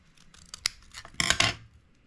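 Scissors cutting glued paper for a craft tea cup and teapot, a few close snips building to a louder double crunch of blades closing through the sheet, then quiet.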